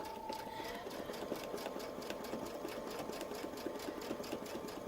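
Domestic sewing machine running steadily at speed while quilting a large quilt with a template, a fast, even mechanical whir with a rhythmic needle rattle, close and continuous throughout with no pauses.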